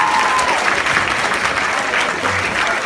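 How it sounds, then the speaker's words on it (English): Steady applause from a crowd fills the room at a high school mayoral forum, continuous clapping at a fairly loud level throughout. "So how about a round of applause for our candidates?"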